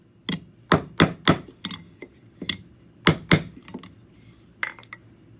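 Hammer blows shaping a sterling silver peace sign into a curve, a dozen sharp metallic strikes in uneven clusters, close and crisp, with short ringing tails and quiet gaps between.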